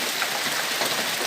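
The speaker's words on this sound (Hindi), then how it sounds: "तो गाइस वो देख सकते हैं कितना बारिश है" Heavy rain falling on a rainy day in Bangladesh, a dense, steady hiss of downpour that fills the whole clip with no talk over it.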